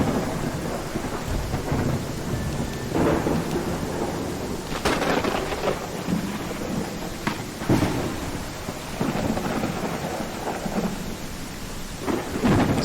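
Thunderstorm disaster in the Viking village-building game Land of the Vikings: steady heavy rain with repeated rumbling thunder and several sharp cracks, continuous and loud with no talk.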